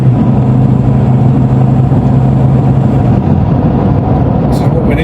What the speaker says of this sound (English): That turbo's just pulling now.